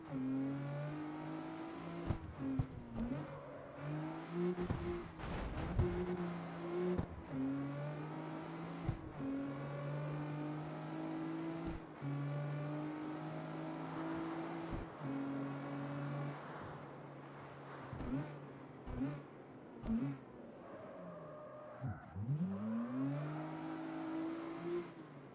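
A convertible 300Z car engine in the video game CarX Street revs and shifts repeatedly, with steady climbing tones broken by gear changes and throttle lifts, loud and close for a long stretch.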